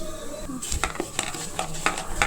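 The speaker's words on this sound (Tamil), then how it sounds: "எல்லாம் போட்டு நல்லா மிக்ஸ் பண்ணிவிட்டு" A spoon scrapes and clinks against a bowl while spices are stirred together for raw banana fingers, several quick knocks in an uneven rhythm, close and fairly loud.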